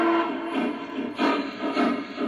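A Legacy-equipped Union Pacific 4014 Big Boy model locomotive runs on two-rail track, giving a steady rumbling, clattering hum with slight rhythmic swells, fairly close and continuous with no talk.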